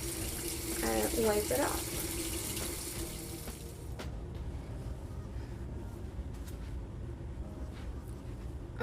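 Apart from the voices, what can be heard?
water running from a tap to wet a washcloth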